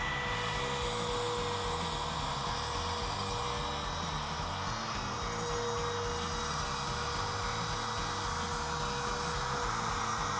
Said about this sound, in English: break the edge with an 1/8 inch roundover bit